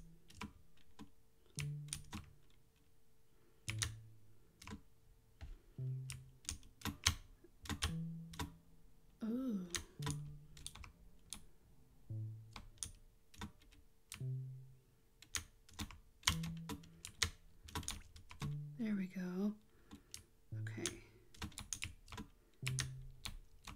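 Steady computer keyboard typing with bursts of quick key clicks and short pauses, close and moderately loud, alongside intermittent low tonal sounds during a relaxed stream.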